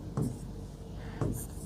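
Pen or marker strokes on a board during an electrical engineering lecture, two short scratchy bursts about a second apart against a quiet room, with faint voice traces.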